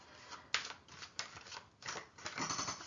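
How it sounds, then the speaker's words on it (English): Major arcana tarot cards being shuffled by hand, a soft papery riffling with a few sharper slaps, close and quiet with no voice over it. "just give it another little shuffle."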